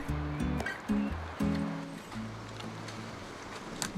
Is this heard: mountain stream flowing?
yes